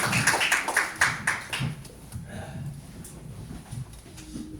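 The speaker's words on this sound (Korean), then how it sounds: "박수로 환영해 주십시오." A small audience claps in welcome at a seminar, a short run of distinct, rhythmic claps in the first second or two before fading into quieter scattered taps.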